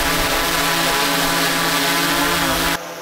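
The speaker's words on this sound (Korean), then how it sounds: "지금 매빅3 프로 이 정도 소리가 납니다." A DJI Mavic 3 Pro drone flies close overhead, its loud, steady propeller whine and buzz filling the air before cutting off abruptly near the end.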